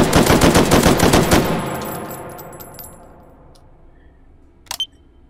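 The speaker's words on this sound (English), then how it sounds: "Let's shoot it one more time." Rapid automatic gunfire from an M14 rifle in the VR game H3VR, a loud burst of fast shots lasting about a second and a half, ringing out into a decaying tail, then a couple of metallic clicks.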